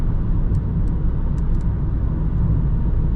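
A Renault Megane 4 with a 1.5 dCi diesel cornering through a bend at about 91 km/h, heard from inside as a steady low engine and road rumble with no talk.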